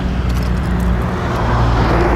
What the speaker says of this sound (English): And once again, here comes a noisy truck.